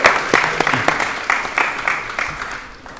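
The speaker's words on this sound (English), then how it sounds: "Give him a nice round of applause." A burst of applause at a funeral service, scattered claps at first that fade gradually over a few seconds in a roomy space.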